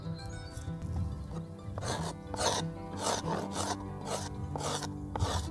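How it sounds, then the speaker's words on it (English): A knife scrapes bark off a wooden stick being shaped into a hunting bow in the woods, a close, dry rasping stroke repeated about nine times in a steady rhythm, with no talking. "I just want to scrape off the bark without touching the wood"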